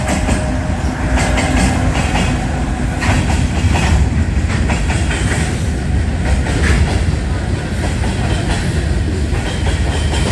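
The 45 Up Pakistan Express passenger train, bound from Karachi Cantt to Rawalpindi, passes through Padidan railway station with loud, steady rumbling and rhythmic clickety-clack of wheels on rails throughout.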